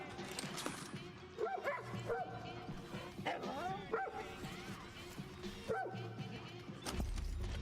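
A dog in Far Cry New Dawn lets out repeated whimpers, yips and short barks in irregular bursts, close and distinct, with a voice talking underneath and game ambience behind.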